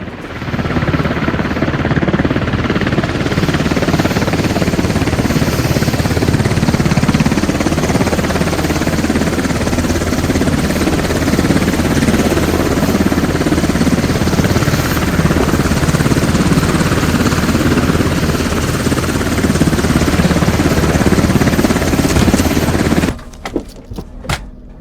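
Helicopter in the video game Squad during an airborne assault, a loud continuous rotor and engine roar that stays steady for most of the span before cutting off abruptly near the end, no talk.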